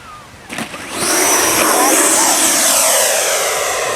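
An FMS Avanti S 90mm RC jet rushes in close for a touch and go, its ducted fan swelling into a loud, steady whine after a brief thump.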